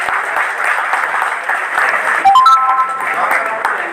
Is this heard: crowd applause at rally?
yes